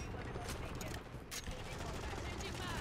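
Rapid full-auto M16 fire from Modern Warfare 3 gameplay, a dense, steady burst running the whole time with sharp cracks and continuous game noise underneath.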